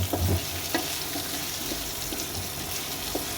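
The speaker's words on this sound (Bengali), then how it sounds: "লবণ দিয়ে ভালো করে আমি নেড়ে চেড়ে নেবো।" Fresh thalkuri greens and potatoes with salt sizzle steadily in a frying pan, with a few soft scraping stirs standing out near the start.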